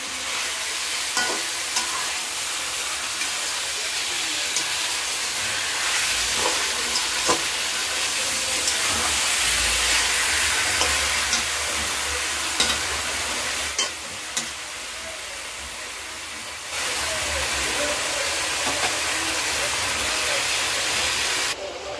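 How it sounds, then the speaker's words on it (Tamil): Chicken pieces fry in hot oil in a pan with a loud, continuous sizzle and hiss, broken now and then by sharp spatters and a few stirring scrapes. "இப்போ சிக்கன் போட்டு நல்லா எண்ணெயில் கொஞ்ச நேரம் வதக்க விட போகிறேன். எண்ணெயில் ஃப்ரை பண்ணணும்."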